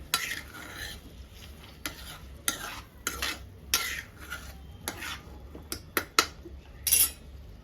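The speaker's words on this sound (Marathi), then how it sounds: "मीठ घातलेलं वांग छान मिक्स करून घेते" Salted brinjal being stirred in a pan, a spoon scraping and tapping through the pieces in irregular strokes with a soft sizzle underneath, close and fairly loud.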